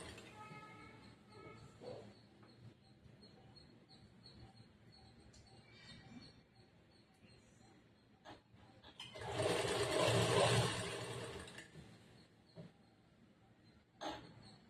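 A sewing machine stitching the edge of a churidar pant runs in short bursts with quiet gaps and soft handling noises, then one louder sustained whirring run near the middle before stopping.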